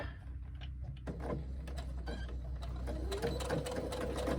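A sewing machine stitches a second seam on a tote bag, its mechanical rattle starting slow and then running in a quicker steady whir with small clicks, close by and alone.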